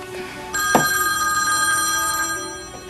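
A telephone bell rings with a bright, sustained metallic tone that starts abruptly and carries on before cutting off, loud and close with no speech.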